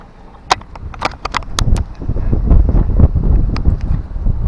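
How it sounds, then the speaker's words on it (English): Wind gusting outdoors on the bank of the River Humber, a steady rumbling buffet that builds and stays loud, with a few sharp clicks and knocks near the start. "wind's picked up a little bit"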